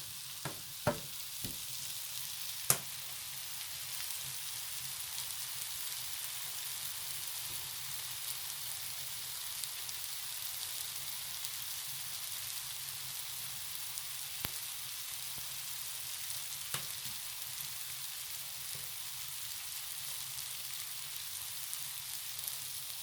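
A Manwich mixture with boxed stuffing sizzles and fries in a pan on a hot wood-fired cast iron stove, a faint steady hiss with occasional soft pops and clicks throughout.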